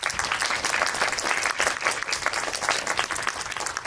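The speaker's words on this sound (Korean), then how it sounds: "세 분의 게스트를 큰 박수로 맞이해 주시기 바랍니다." A theater audience at a film guest screening event claps warmly and continuously to welcome guests, a dense, even wash of applause with slight swells, close and sustained for the whole stretch.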